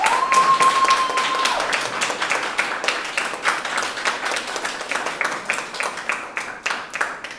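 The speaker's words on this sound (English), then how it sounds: "A round of applause for them as well." Audience applause at a debate between two teams, a dense steady round of clapping from a crowd that starts loud and gradually thins and softens toward the end.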